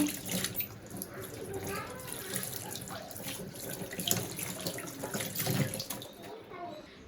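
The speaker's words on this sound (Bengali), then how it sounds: "আমি হাতটা ধুয়ে নেব" A kitchen or bathroom tap runs while hands are washed beneath it, a steady close splashing stream that shifts and gurgles as the hands move through the water, with a faint voice in the background.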